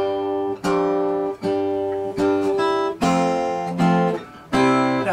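An acoustic guitar plays a tune, fingerpicked in a softer, subdued style, with a series of plucked notes and chords ringing out one after another, close and clear, with no talk.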